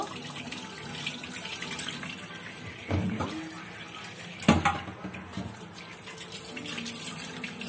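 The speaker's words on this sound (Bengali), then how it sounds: "মাছগুলো পরিষ্কার করে ধুয়ে নেব।" Tap water runs steadily into a sink while fish are rinsed under it, with splashy bursts where the stream hits the fish and hands, fairly close and moderate in level.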